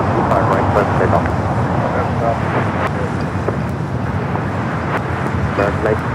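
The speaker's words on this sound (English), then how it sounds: "Next takeoff here on the south side, United Flight 1431 heading to Honolulu. It's a 25-year-old 757" A United Boeing 757, twenty-five years old, taking off from the south side at LAX: a steady, broad jet engine roar that holds throughout at moderate distance, mixed with wind and background airport noise.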